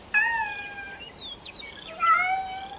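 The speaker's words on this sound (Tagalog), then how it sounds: "Napatingin ako sa pusang kumikiskis sa mga binti ko." A cat gives two drawn-out, wavering meows, moderately near, over a steady high insect-like whine and faint background hiss.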